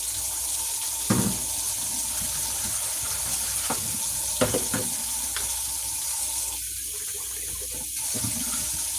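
Water runs steadily from a tap while dishes are washed, a continuous close splashing hiss with a few clinks and knocks of dishware, no talking.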